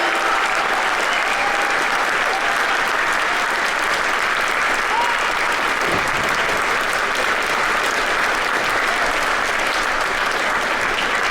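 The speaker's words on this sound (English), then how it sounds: "Let's give our 8th graders a huge round of applause." An audience applauds 8th graders at a junior high school band and orchestra concert, with dense, sustained clapping that fills the hall at a constant loud level, and a few faint cheers are mixed in.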